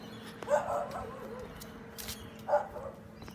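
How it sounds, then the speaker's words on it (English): A dog barks twice at a distance, two short yelps about two seconds apart over quiet background noise. "there's a dog barking at me."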